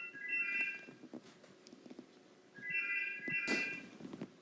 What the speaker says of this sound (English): So the phone ringing.